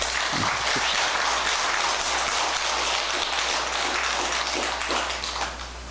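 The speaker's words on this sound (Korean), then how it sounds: "그러면서 우리 모두 박수를 한번 칩시다." Audience clapping at a Buddhist dharma talk in a Korean Buddhist hall, a loud sustained burst of many hands that carries on steadily and eases off slightly at the end.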